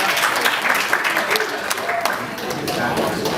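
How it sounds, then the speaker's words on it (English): A crowd at an anniversary seminar in a Kitwe hotel bursts into a round of applause, dense clapping that carries on steadily, with some voices mixed in. "round of applause"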